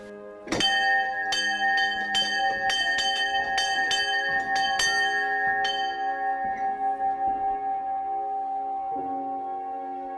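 Church bells cast in 1852 ring out from a village belfry in a rapid, irregular peal of clear strikes, then fade into a long, lingering resonant hum.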